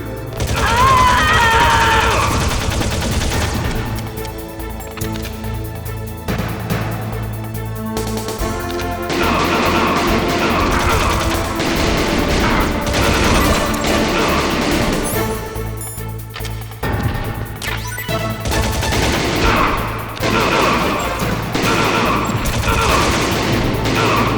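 Loud, dense bursts of gunfire and crashing impacts from the video game Metal Gear Solid, rapid volleys layered over game music and sound effects, with voices talking throughout.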